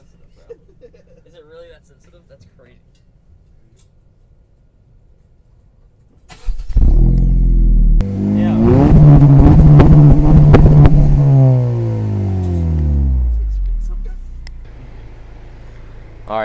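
A car engine cranks and starts after a quiet stretch, then revs loudly several times, rising and falling before settling to a lower rumble.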